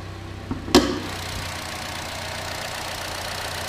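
A 2014 Chevy Cruze with a 1.4 liter turbocharged Ecotec engine idles with a low, steady hum after a sharp click or thump near the start, heard alone without talk.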